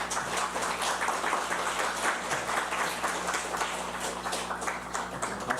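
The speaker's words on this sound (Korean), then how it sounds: "다시 한번 박수하겠습니다." A church congregation at Onnuri Church Osaka applauds during a Sunday worship service, giving a sustained, even patter of many hands clapping at close range throughout, with a low steady hum underneath.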